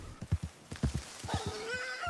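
A horse in Red Dead Online gives a shrill, wavering whinny near the end, right after a run of hoof clip-clops, all close and clear with no talk.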